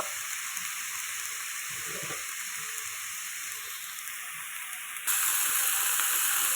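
Salt, turmeric and cumin powder fry in a pan for a chapali fish curry, making a steady, hissing sizzle that jumps louder near the end, with no voices.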